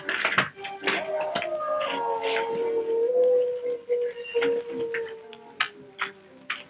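A long, wavering timber wolf howl glides slowly downward, mixed with a human voice imitating a howl, with clicks and taps scattered around it.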